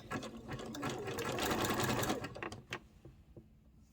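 Sewing machine running a zigzag stitch along the lining of a bathing suit, a close, fast rattling burst that builds, then slows into a few separate stitches and stops.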